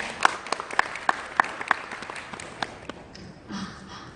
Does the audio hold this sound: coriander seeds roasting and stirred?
no